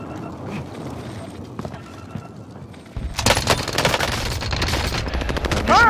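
Call of Duty gunfire: a quieter stretch of scattered shots gives way to loud, rapid automatic bursts that continue dense and close to the end.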